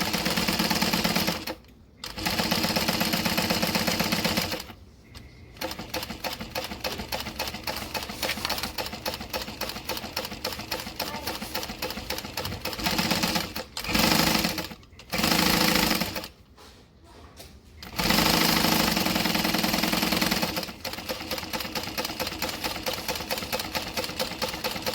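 A sewing machine stitching fabric in fast rattling bursts, running continuously with several short pauses between stitching runs, fairly close and clear.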